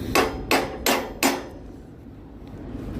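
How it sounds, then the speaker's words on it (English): Four sharp hammer blows on a metal shipping container latch in a quick, even rhythm, each ringing briefly before the last one fades into quiet. "We're just gonna hit it with a hammer."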